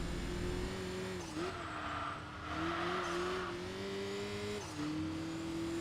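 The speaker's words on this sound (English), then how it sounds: "that engine sounds absolutely mean with the crazy amounts of turbo. The crazy amounts of the turbo blow off and everything" A turbocharged Ruf car in the video game Enthusia Professional Racing drones loudly and continuously, its engine pitch rising and dipping through a couple of gear changes with a hissing edge of turbo blow-off.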